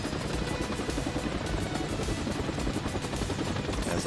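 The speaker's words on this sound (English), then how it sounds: "I'm running towards the helicopter." A helicopter in the video game Final Fantasy VII Rebirth on PS5 beats with a loud, steady rotor chop, dense and close, with bursts of gunfire mixed in and no talking.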